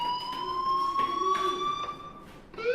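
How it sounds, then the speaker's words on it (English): A fire alarm rings steadily in the video game Life Is Strange, a continuous high electronic tone with bright overtones that holds for several seconds and shifts pitch near the end. "Hey, do you hear that fire alarm?"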